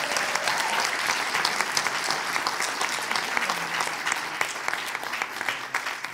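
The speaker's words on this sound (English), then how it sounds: "Give them a massive round of applause." Sustained crowd applause at a junior chef awards ceremony honouring joint third-place finishers, dense rapid clapping from a large audience filling the room steadily for several seconds, loud and unbroken, with no speech over it.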